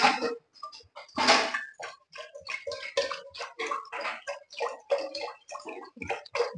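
About 200 grams of water poured into a pot on a lit stove for wheat porridge, heard as a close run of irregular gurgling, splashing bursts with brief gaps.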